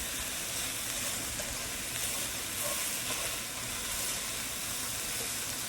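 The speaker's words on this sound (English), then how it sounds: "this cook down some more. Get some brown crispy bits" Teriyaki beef fries in canola oil, a steady, dense sizzle and hiss close by that holds evenly throughout with no voices.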